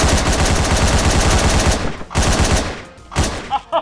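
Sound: gunshots in Hotline Miami video game

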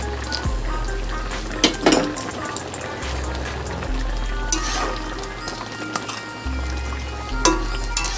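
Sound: fried lentil dumplings added to simmering drumstick curry

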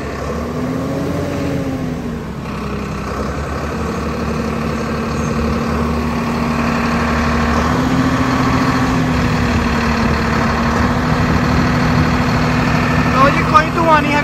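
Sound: Swaraj 969 CRDi tractor engine running at set RPM

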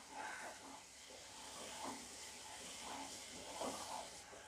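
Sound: water boiling in a pan

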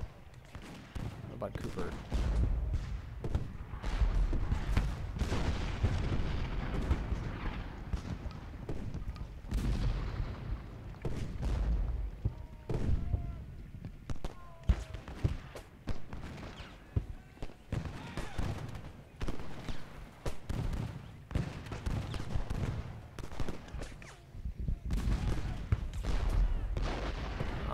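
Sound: artillery shells firing in Ultimate General: Gettysburg video game

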